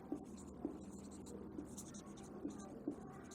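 Marker or chalk writing on a classroom board during a Class 7 fractions lesson, a run of soft scratchy strokes with a few sharper taps, steady and close, with no talking over it.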